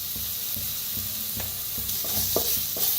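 Stirring a sizzling, frying mixture in a pan with turmeric added, for vada pav potato filling: steady close-up frying hiss with repeated scraping strokes of a spoon roughly every half second, no talking.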